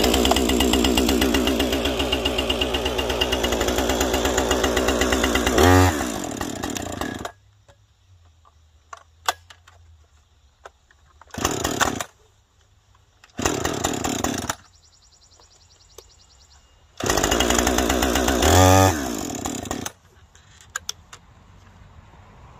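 A Husqvarna 550xp chainsaw bucking cherry logs, roaring loud and close at full throttle, then dropping to a low idle between several shorter revving bursts.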